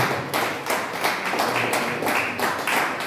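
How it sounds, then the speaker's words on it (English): An audience at a ceremonial lecture gathers in a heavy round of clapping, close and loud, with distinct rhythmic bursts of hands beating in unison over about three seconds. "With a heavy clap offering, let us welcome Mr. Setrako Gagakuma to join us on the high table."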